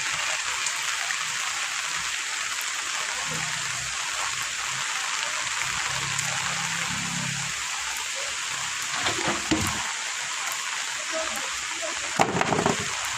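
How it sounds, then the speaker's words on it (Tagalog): Heavy rain pours in a constant dense hiss, with a few louder knocks and splashes near the end. "Grabe kakusog, nagbuntag lagi ang ulan"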